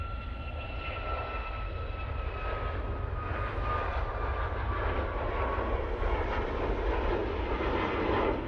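A KLM Airbus A321neo turning at Manchester Airport gives a steady, broad jet-engine roar with a thin whine riding over it, holding at even loudness at moderate distance with no voices.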